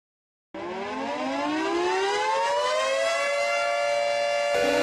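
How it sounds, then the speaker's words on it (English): An outdoor tornado warning siren winds up, its wailing tone rising steadily in pitch and holding loud and sustained, heard alone. "Tornado sirens just went off."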